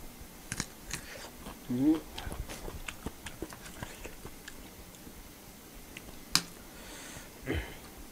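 Instant Mama noodles, prepared with boiled water, are chewed close to the mic in bursts of soft wet smacks and sharp crunchy clicks, with quiet pauses between bites.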